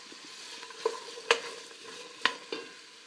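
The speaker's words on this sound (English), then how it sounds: "As I saute the veggies" Onions, carrots, celery and garlic sauté in oil in a pan for pasta fagioli, with a faint steady sizzle broken by a few sharp clinks of a utensil stirring, quiet and close.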